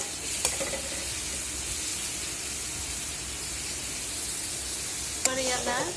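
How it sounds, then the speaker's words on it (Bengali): Onions frying in a generous amount of oil for a dried fish curry, a steady broadband sizzle running throughout, with a utensil clink near the start and a brief scrape near the end. "অনেকটাই ভাজা হয়ে গেছে পেঁয়াজ"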